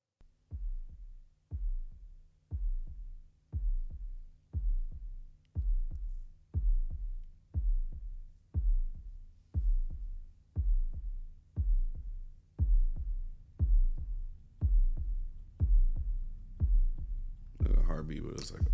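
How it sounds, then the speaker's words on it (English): Heartbeat sound effect from a track: a steady, regular series of deep thumping double beats like a bass drum, loud and close, repeating for the whole stretch before a burst of other sound at the end. "A heartbeat, but it's like a bass drum."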